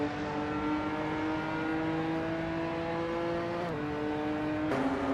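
A Ginetta GT4 race car and other GT4 racers at Weatherfield, a steady loud engine drone holding a high pitch, with two abrupt shifts where the revs drop and climb again; continuous, close, no voices.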